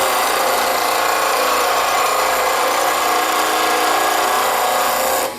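Wood turning tool held against a bench grinder and throwing sparks, a loud, steady, high-pitched grinding whine with a constant motor drone, continuous and close until it cuts off at the end.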